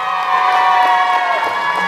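Supporters of the Denpasar team cheer and shout at a Bali quiz competition semifinal, a loud steady crowd roar of mixed voices that fills the whole moment.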